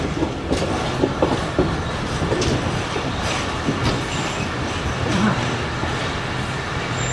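An upgraded Safari passenger train pulls into Attock Khurd railway station among hills in Punjab, with a loud, steady rumble and wheel clatter from close by, carrying on without pause.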